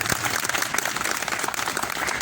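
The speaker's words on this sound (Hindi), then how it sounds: "एक बारी जोरदार ताली बजा दो" Enthusiastic audience applause for an employee at a Mata ki Chowki gathering, a dense, continuous roar of clapping that stays loud and even from start to finish.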